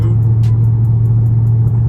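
A Dodge Charger Scat Pack cruises at about 60 mph on a foggy highway at night, a loud, steady low engine drone and road rumble with faint periodic ticks, heard from inside the car without talk.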